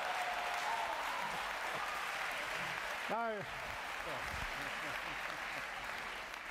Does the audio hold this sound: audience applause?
yes